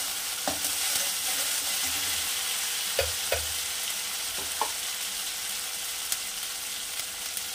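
Spice paste sizzles and fries with meat in a pan while cooking a vegetarian-style bhog mangsho, a steady close crackle with a few soft clicks of stirring.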